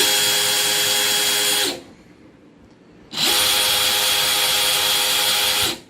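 A DeWalt 20V MAX XR cordless drill with a steel chuck runs at full speed in two long bursts with a whining motor hum, separated by a short near-silent pause, each burst starting and stopping abruptly.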